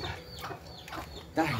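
Rooster giving a few short, close clucks while being caught, ending in a sharper squawk.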